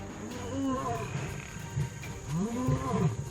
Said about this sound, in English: His growls and forceful swipes make the larger males hesitate